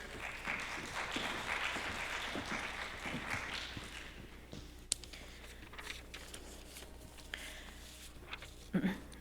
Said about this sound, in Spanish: la recibimos con un fuerte voto de aplausos